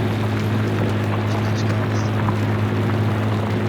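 A turbocharged 1950s-era tractor in Farming Simulator 19, rated around 73 horsepower and for a five-bottom plow, drones with a steady, unbroken low engine hum throughout.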